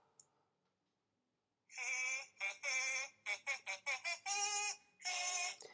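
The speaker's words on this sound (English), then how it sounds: "my alarm, because I set the alarm on it, was this" A tiny smartphone's alarm ringing through its weak speaker after a near-silent start: a tinny, buzzy electronic melody of short pulsing tones, repeated in quick clusters, close and fairly loud.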